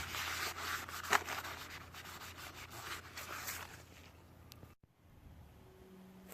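Wiping down a brake rotor during a front brake swap on a 1997 to 2002 Camaro: steady, soft rubbing strokes close by that stop near the end, with no talking.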